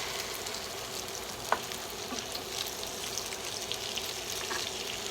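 Chicken egg foo young fries in hot grease in a pan, a steady close crackling sizzle with scattered pops running evenly throughout, with a single sharper tap partway through.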